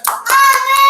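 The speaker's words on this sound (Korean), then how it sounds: "영광의 박수 올려드립니다." A few sharp hand claps ring out at a student church service, followed by a sustained bright tone, close and loud over otherwise quiet surroundings.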